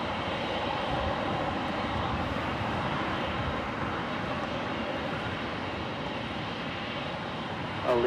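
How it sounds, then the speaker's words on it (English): A Lufthansa Boeing 747 taxiing across a runway at Los Angeles International Airport produces a constant, fairly loud engine rumble and whine that holds steady, with a brief sharper sound at the very end. "the Lufthansa Queen now going to cross over on Lima"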